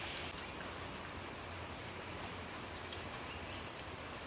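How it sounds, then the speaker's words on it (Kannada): Light drizzle falls steadily in a village at dawn, heard as a faint, continuous, even hiss of fine raindrops with no other sounds standing out. "ಸಣ್ಣದಾಗಿ ಮಳೆ ಹನಿ ಇಡ್ತಾ ಇದೆ"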